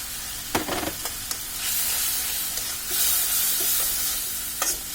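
Ginger garlic paste, nutmeg and mace paste and tomato paste fry with spices in a pan for a kima potol curry, giving a steady close sizzle and hiss broken by a few stirring clinks, with no talking.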